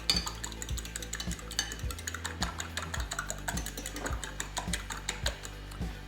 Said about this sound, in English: We have a couple of eggs here. We're going to beat them up.